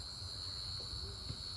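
Crickets chirp in a red-earth forest area in Purulia, a faint steady insect drone heard alone in a quiet outdoor setting, with no voices.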